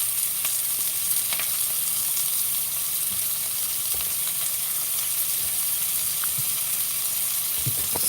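Garlic and chicken sausage fry in a lightly oiled pan, giving a constant close sizzle and hiss with occasional stirring scrapes and clicks, and no voices.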